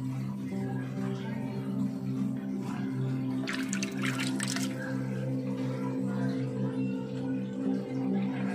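Water siphoned out of an arowana aquarium that is being cleaned, a continuous low gurgle and trickle under a steady hum, with a brief splashy burst near the middle.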